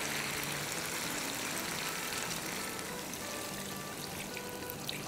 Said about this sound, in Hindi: 4 कप पानी।